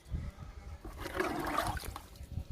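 Liquid fertilizer poured onto a plant, a short splashing trickle lasting a couple of seconds, close by and fairly quiet.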